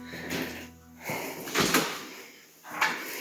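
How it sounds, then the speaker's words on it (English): A water closet door swings open with a soft creak and a dull knock, followed by brief rustling; short and close, with no talking. "Open that door."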